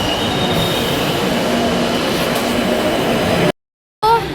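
A metro train at a station rumbles and screeches with steady wheel squeal and roar, loud and close, before a brief cut and a return of the noise.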